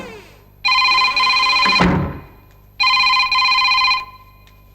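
A telephone rings twice in an indoor film scene, each electronic ring lasting about a second and a half with a clear pause between them. The rings are loud and close, with no talking over them.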